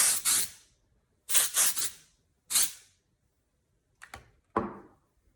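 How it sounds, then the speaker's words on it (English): Unite Texturizer, a half hairspray, half texture spray, sprayed from a can in several close bursts: a short double hiss, a triple burst, a single spray, then two brief softer puffs, with no talking. "I'm gonna use my Texturizer by Unite. This is half hairspray, half texture spray."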